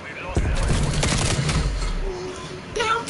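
Rapid AK rifle fire in Call of Duty Black Ops Cold War, a burst of loud close shots in quick succession that trails off, then a few more pops at the end, with shouting mixed in.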